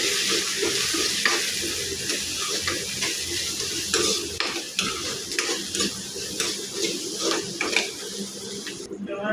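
Onion and salt are stirred together in a pan for an okra curry, with repeated scraping and clinking of a utensil against the pan over a continuous sizzle, up close.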